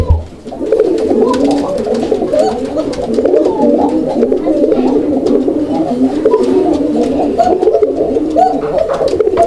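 Several pure-bred pigeons at a pigeon market coo continuously up close, their soft, throaty burbling overlapping in a steady, warbling chorus.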